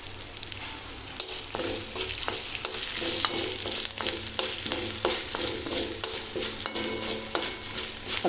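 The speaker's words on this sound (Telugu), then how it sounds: "కొద్దిగా ఆవాలు, కొద్దిగా జీలకర్ర, 2 ఎండుమిరపకాయ ముక్కలండి. ఇవి వేసుకోవాలి. ఇవి వేగిన తర్వాత" Mustard seeds, cumin and pieces of dried red chilli fry steadily in hot oil for a coconut-tomato chutney tempering, with a continuous close sizzle, a few sharp pops and spoon stirring scrapes.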